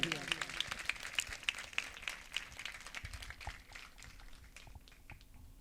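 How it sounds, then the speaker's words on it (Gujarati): Audience applause at a girls' school annual function, starting strong with brisk overlapping claps and gradually thinning and fading over several seconds, heard from within the crowd. "જબરજસ્ત તાળીઓથી એમને વધાવીએ"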